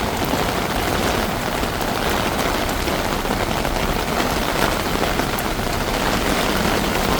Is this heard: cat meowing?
no